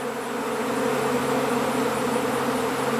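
Dense, continuous buzzing of many honey bees swarming close by, a steady droning hum without pauses or voices.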